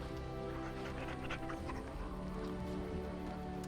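A dog in the video game Dragon Age Origins pants and whimpers over a dense, continuous bed of game music and ambience, with no clear sharp barks standing out.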